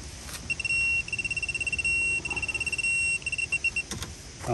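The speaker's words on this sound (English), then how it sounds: "Hear the beep." Electronic beeps from a torque wrench while a wheel bearing on a 2007-2009 Honda CR-V is tightened, a clear steady tone broken into long tones and rapid pulses, close and fairly loud over faint background noise.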